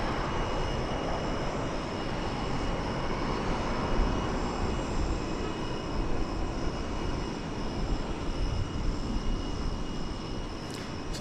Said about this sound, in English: No, it's not a Dreamliner, it's a 777.